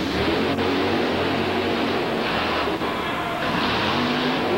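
Bigfoot monster truck's engine roars loud and continuous at a 1990 mud race in Orlando, Florida, a dense rumbling drone with brief dips as the throttle shifts, no voices over it.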